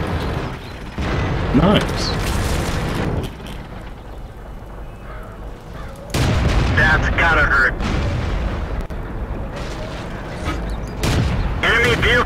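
Tank cannon shots and explosions in World of Tanks gameplay, loud booming bursts in sustained rumbling battle noise while a player talks excitedly over it.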